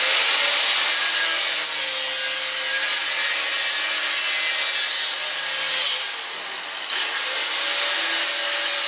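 A cutoff blade slices through seals in a steady, loud, continuous rasping cut, briefly dipping near the end before resuming, with no talking.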